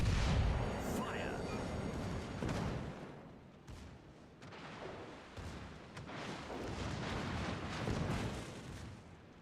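Battleship main guns firing in World of Warships Legends, a Tier 5 ranked duel with a California shooting HE shells, giving heavy booming blasts and rumbling impacts across the stretch, with someone talking over the gunfire.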